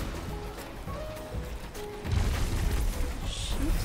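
Dull grenade-launcher booms from Destiny 2 roll in as a low, muffled rumble that swells partway through, with faint game tones and effects in the background.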